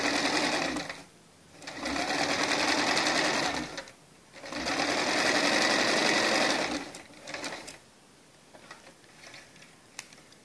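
A sewing machine stitches piping onto fabric in three sustained, steady bursts of rapid mechanical whirring, close and clear, separated by short pauses and followed by faint handling clicks.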